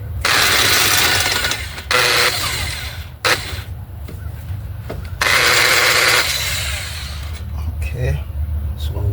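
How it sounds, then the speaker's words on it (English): A power tool works loose the caliper bolts on a 2009 Dodge Journey during front lower ball joint removal, loud rattling bursts stopping and starting several times with someone talking between them. "my power tool is the one that will crack these bolts back here"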